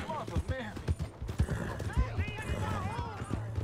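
Horse hooves clip-clop in the Red Dead Redemption video game, giving quick uneven steps with occasional snorts, set under steady game dialogue and background sound.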